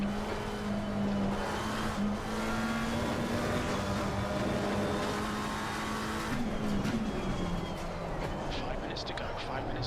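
A race car circles Brands Hatch in a racing video game, its engine droning steadily with pitch rising and falling through gear changes and corners, while someone talks over it.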